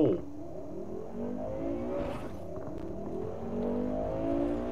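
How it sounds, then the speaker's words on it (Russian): A car engine in the video game Cyberpunk 2077 revs and climbs in pitch, with rising and falling whining sweeps that swell louder toward the end. "Я прям слышу, как эта машина говорит"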